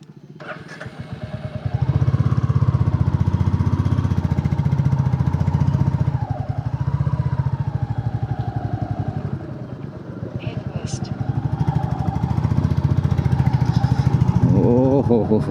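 A motorcycle engine runs continuously during a ride through rural fields on the way to Mukutmanipur, loud and close, its pitch rising and falling as the rider speeds up and slows.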